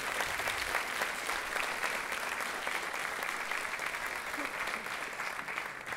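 Loud, dense applause fills a concert hall at a refugee-children fundraising concert as the crowd claps for a composer and his wife, sustained and even from start to finish.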